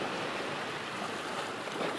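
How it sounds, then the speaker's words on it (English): Gentle Pacific Ocean waves washing onto a Tuvalu island shore: a steady, broad wash of surf and foam, moderately loud and unbroken throughout, with no voices. "The welcomed waves marking time in a place where time seems endless."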